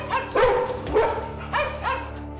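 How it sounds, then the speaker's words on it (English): Dogs in a reportedly haunted house give several short, high whimpering yips in quick succession, close by and clear, with no talking. "They started to whimper and cringe. The dog's reacting to something."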